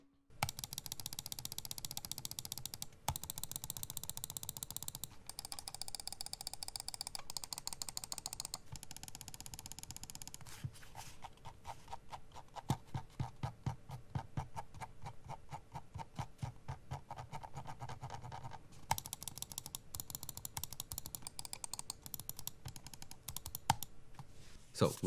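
Inphic IN10P gaming mouse clicking steadily up close, with rapid runs of sharp ticks and some quieter stretches, over a faint constant background hum.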